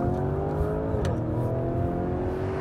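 Lamborghini Urus super SUV engine heard from inside the cabin, a steady, loud low drone with one brief rise and dip in revs partway through, otherwise holding an even, throaty hum.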